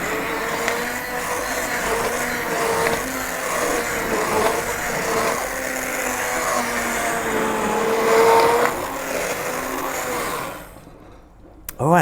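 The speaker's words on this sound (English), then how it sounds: "Now we're going to liquidize this." A hand blender liquidizes broccoli soup directly in the pan with a continuous loud motor whir that wavers in pitch as it churns, running about ten seconds before it stops, with some talk over it.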